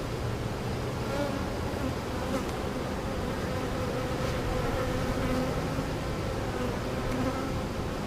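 Honeybees swarm around an open hive during a beekeeping inspection, a dense, steady buzz filling the whole stretch at moderate level, with no voices.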